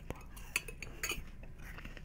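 Cutlery clinks softly in the fantasy game Enderal, a Skyrim mod: a few light, bright metallic taps over a quiet room hum, close and isolated.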